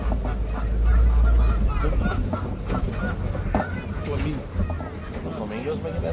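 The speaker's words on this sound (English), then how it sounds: "Sound like geese." Geese honking during a safari ride, several calls mixed with a low rumble and background voices.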